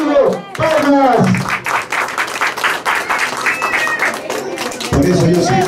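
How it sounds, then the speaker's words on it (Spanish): Crowd clapping at the opening of a local campaign office, loud and continuous across the whole stretch, with voices shouting and talking over the applause. "¡Palmas!"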